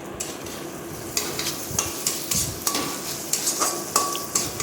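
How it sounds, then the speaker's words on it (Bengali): A spatula scrapes repeatedly through a sizzling egg and soybean curry as turmeric and chilli powder are mixed in, giving regular clinking strokes over a constant frying hiss, close and with no speech. "পরিমাণ মতো হলুদ, পরিমাণ মতো লঙ্কা গুঁড়ো দিয়ে কিছুক্ষণ নাড়াচাড়া করব"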